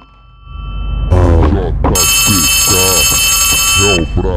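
A telephone rings in the video game Poppy Playtime Chapter 3, a steady electronic ring with repeated bursts over a constant high tone and hum, loud and close, with a voice speaking over it.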